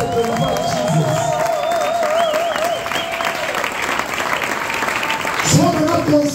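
A church congregation at a seminar applauds and cheers together to glorify Jesus, a steady broad roar of clapping filling the room, with sustained musical tones and voices running over it.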